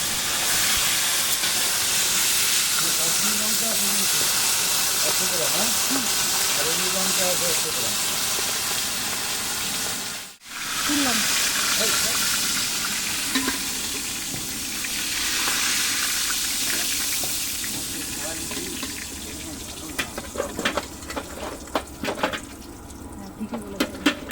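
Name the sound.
hilsa fish frying in oil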